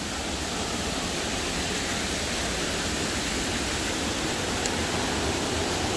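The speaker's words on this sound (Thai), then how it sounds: "ที่นี่คือน้ำตกเจ็ดโคตรเหนือนะครับ" Jed Kot north waterfall in Thailand roars as a steady, loud, unbroken rush of falling water, with no voices over it.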